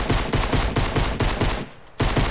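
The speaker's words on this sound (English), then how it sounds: "Listen to the sound of my pistol." A pistol fires in a 1v1 video game, in a fast regular string of loud, close cracks that breaks off briefly near the end and then resumes.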